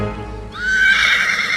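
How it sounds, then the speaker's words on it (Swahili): A horse neighs loudly and close, a long rising whinny that swells and holds over a low rumbling background. "Mbona nasikia kelele za farasi"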